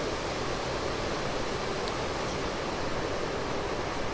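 Gas escaping from a fuel canister while it is screwed into a Jetboil Flash stove, a steady, broad, rushing hiss that holds at an even level from start to finish.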